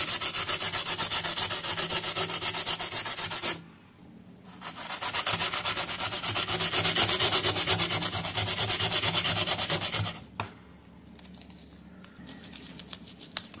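A cleaning sponge scrubs corrosion off a corroded battery terminal: loud, rapid abrasive rubbing strokes in close, steady runs, broken by two brief pauses, then lighter, scattered scrapes at the end.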